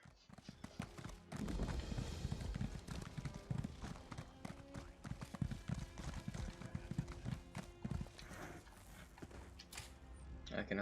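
A horse's hooves clip-clop steadily in the video game Elder Scrolls Online, a continuous close trotting rhythm with faint mechanical creaks and background bustle.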